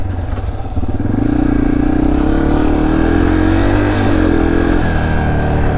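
A Yamaha TTR230 trail dirt bike engine revving close up, its pitch climbing steadily and holding high before easing slightly, loud and continuous with no talking.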